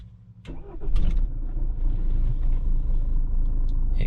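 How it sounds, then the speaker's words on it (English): A 2015 Jeep Cherokee engine cranking briefly and catching, then settling into a steady, close idle rumble. "I'll start the car."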